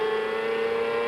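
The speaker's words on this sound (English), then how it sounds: "There's a funny resonance from the exhaust." Onboard champ car engine at the 1997 Gold Coast race, a steady high-pitched drone with a strong resonant exhaust tone, loud and continuous.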